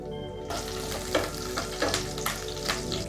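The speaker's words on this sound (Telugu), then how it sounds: "ఈ పచ్చిమిర్చి కాస్త చిట్టపడడం అనగానే" Three slit green chillies crackle in hot ghee with cinnamon and cardamom, a loud sizzle that starts abruptly and carries a handful of sharp spitting pops and stirring scrapes.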